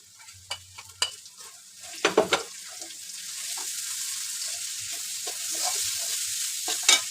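Onions, chillies and ground spice pastes of cumin, coriander, garlic and ginger with turmeric sizzle steadily in a pan, close by, while a spatula stirs and scrapes with a few sharp knocks early on.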